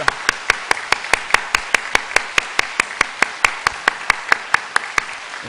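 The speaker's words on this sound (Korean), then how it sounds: "15초 박수하겠습니다." A church congregation claps in a quick, even rhythm, many hands striking together in a steady beat of sharp, distinct claps that carries on for several seconds.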